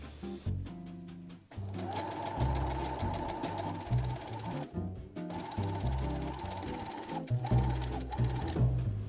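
Sewing machine stitching a gathered petticoat tier onto a skirt yoke for a 1950s-style petticoat, running in several long, steady bursts with brief stops between them, close and fairly loud with no talking.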